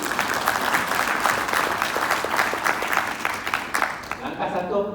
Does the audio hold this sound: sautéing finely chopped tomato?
no